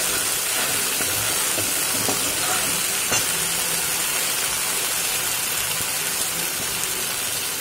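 Ginger garlic paste frying in a pan for matar ghugni gives a steady, fairly loud sizzling hiss that runs unbroken with no voices.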